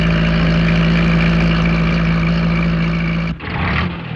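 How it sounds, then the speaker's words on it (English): A delivery van engine hums steadily at close range with a low drone, then cuts off abruptly near the end, leaving a brief quieter rumble. "Pat was hurrying along the road with a van full of letters and parcels for the people of Greendale."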